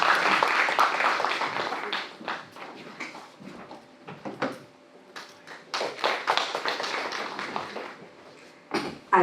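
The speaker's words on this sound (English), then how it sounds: "Can we have a huge round of applause," An audience at a book launch event applauds, uneven clapping that swells at first, thins into scattered claps, then picks up again for several seconds.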